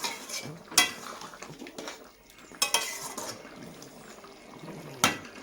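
Stirring a pot of jackfruit meat curry with garam masala, a metal spoon clinking and scraping against the pot in a few irregular strokes over a soft wet simmer, close up with no talking.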